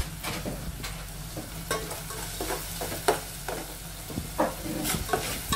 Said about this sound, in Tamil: இந்த அளவு மசிச்சு நல்லா தக்காளியும் வெங்காயம் வதக்குங்க